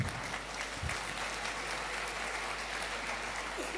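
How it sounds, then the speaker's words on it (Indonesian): Sustained applause from an audience at a university anniversary ceremony, a dense even patter of clapping that carries on steadily from start to finish. "Mari kita beri tepuk tangan."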